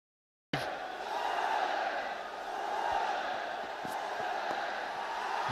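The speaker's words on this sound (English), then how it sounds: "The crowd really getting into it." A cricket crowd at the Nepal versus UAE final does a Nepali stadium wave, their distant roar swelling and easing across the ground as a broad, continuous wash of cheering.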